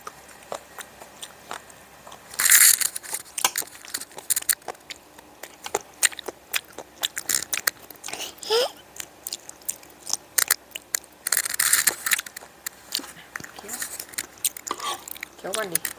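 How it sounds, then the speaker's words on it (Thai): Crunchy, crispy glass noodles being bitten and chewed up close, with repeated sharp crackling crunches, one loud burst early and another near the middle, while a voice talks intermittently. "ให้เพื่อนๆฟังความกรอบอะกรอบของเส้นอะะ"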